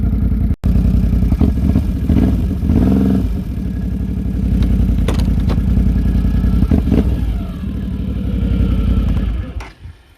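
A 2014 Can-Am Renegade 800R ATV engine runs loud and close on a test drive, rumbling and clattering with repeated revs and throttle swells, then winding down at the very end.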